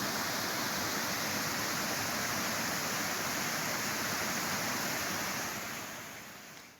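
Rushing floodwater pouring over Kakolat waterfall in the Govindpur hills, a dense, steady roar of churning water that stays loud and even before fading out at the end.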